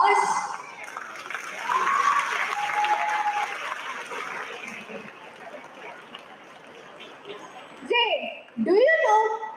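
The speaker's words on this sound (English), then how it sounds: "Don't they deserve another round of applause?" Audience applause at a school annual day event, a sustained crowd clapping that fills the hall for several seconds, fading before a brief musical sound at the end.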